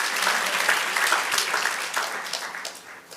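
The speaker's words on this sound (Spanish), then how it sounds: "Dale aplauso, no, dale aplauso." A church congregation claps together in steady, dense applause that fills the room, loud at first and easing off slightly toward the end, with no voices over it.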